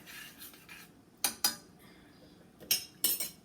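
Spoon scraping and clinking against a pot while stirring a homemade marinating sauce, four sharp metallic knocks in two close pairs over a quiet background.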